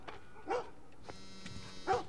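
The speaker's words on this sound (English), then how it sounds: "Shut up, dog! You're scaring me!" A dog in The Last of Us gives two short barks about a second and a half apart, moderately near over a quiet, humming background.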